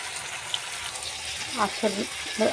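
Fish frying on a flat griddle pan gives a steady broadband sizzle throughout, close and moderately loud, while a voice speaks briefly near the end.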